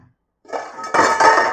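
Chicken curry being stirred in a pot, with metal utensil scraping and clinking against the pot in a quiet start followed by a steady run of close, busy stirring and clattering.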